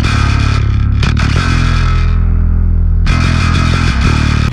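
Electric bass played through an Aurora DSP preamp with the hot boost engaged, loud gritty distorted notes sustaining with a brief pause and a fresh attack partway through, dense and close with no talk.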